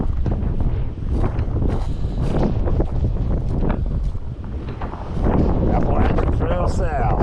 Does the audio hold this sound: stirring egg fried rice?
no